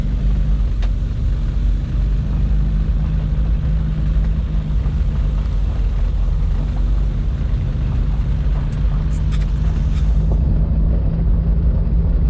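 Steady low engine drone and road rumble inside a moving Opel GT fitted with a Weber 32/36 carburetor, loud and continuous throughout with no talking.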